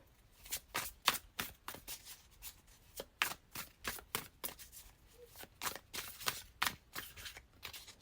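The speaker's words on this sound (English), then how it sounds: "I'm going to go ahead and shuffle a little bit for y'all on camera as well." A deck of cards being shuffled repeatedly, quick riffling bursts in an irregular rhythm, close and crisp, with no voices.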